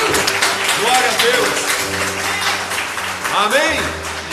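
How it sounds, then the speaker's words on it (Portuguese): Congregation applauding strongly at a church service, a dense, steady wash of clapping filling the room, with voices and a sustained musical tone underneath. "dê para Jesus uma salva de palmas bem forte"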